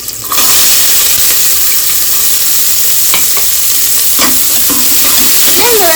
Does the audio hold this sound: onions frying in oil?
yes